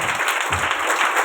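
Worship congregation clapping together, a dense continuous wash of many hands with a steady pulsing rhythm and no talking.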